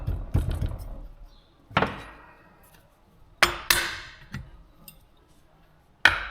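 A hammer taps a part into a Hitachi EX200 excavator stick cylinder during repair, giving about six sharp metallic strikes in uneven rhythm at close range, each ringing briefly with quiet gaps between.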